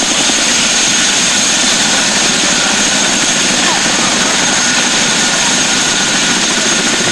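A military aircraft at an air show roars loudly and steadily, a dense, unbroken engine noise that fills the whole stretch without letting up.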